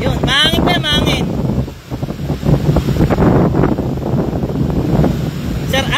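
Strong wind buffets the microphone in gusty low roars, with brief voices and a chirping sound at the start and end.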